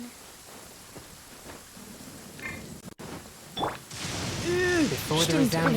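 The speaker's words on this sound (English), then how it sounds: "Oh, I don't like the rain." Soft steady rain falling in the Genshin Impact game world, a gentle hiss under footsteps and game sounds, then covered by a tonal chime and speech near the end.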